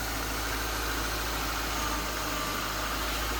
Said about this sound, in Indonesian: Ini mesin posisi udah nyala, sudah di start,